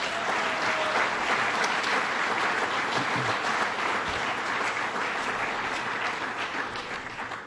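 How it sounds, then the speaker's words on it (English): An audience at an outdoor awards event for the Adirondack Challenge paddling race applauds, a continuous, even roar of many hands clapping that fades slightly toward the end. "Let's give him a round of applause for"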